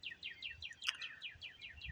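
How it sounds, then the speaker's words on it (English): Several birds chirp outdoors in quick repeated high-pitched notes, a steady run of calls with one brighter, louder chirp near the middle. "Can you hear the birds?"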